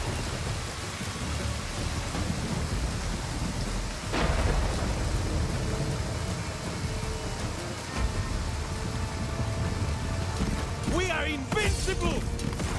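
Rain and rolling thunder from a thunderstorm in the video game Total War: Pharaoh, a steady wash of rainfall with a heavy thunder crash a few seconds in, while someone talks over it throughout.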